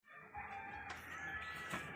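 A rooster crows from a moderate distance, a single drawn-out call over faint background clatter and rustling.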